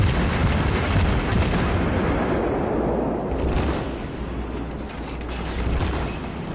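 Naval gunfire from the cruiser USS Omaha in a naval warship video game, a dense, continuous barrage of booming rumbles that stays loud throughout with no speech.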